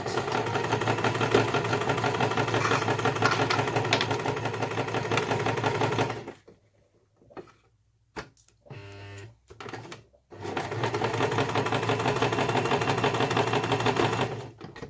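A sewing machine runs steadily while stitching a 3/8-inch seam on a fabric beauty pouch, a loud continuous mechanical whir that stops for a few seconds of near silence and brief rattles, then starts up again.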